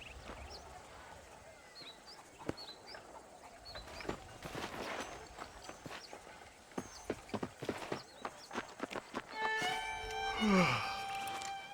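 Horse hooves clip-clop at a riding pace in the Western video game Red Dead Redemption, a steady train of sharp knocks building to a louder passage near the end, with bird calls and faint game ambience around them.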